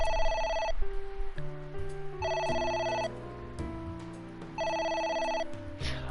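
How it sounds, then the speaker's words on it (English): A phone ringing in the video game AI: The Somnium Files, three repeated electronic trilling rings spaced evenly apart over low game music, clear and close with no talk. "A phone."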